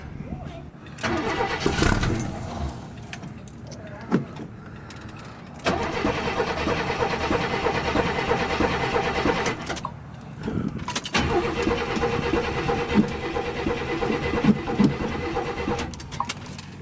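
A 1971 Chevy Malibu muscle car in ratty condition cranks and fires, runs briefly, cuts out, then restarts into a steady running rumble nearby, with people talking over the engine.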